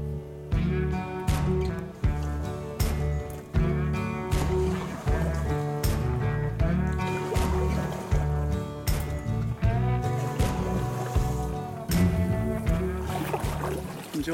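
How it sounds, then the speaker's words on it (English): Oars dipping and pulling a small boat through a mangrove forest, rhythmic splashes and knocks repeating every second or so, close by, with a steady tonal drone underneath and no talk. "Enjoying your gondola ride through the mangroves?"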